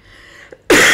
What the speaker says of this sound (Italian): sempre con questa bella tosse da fumatore di sigari cubani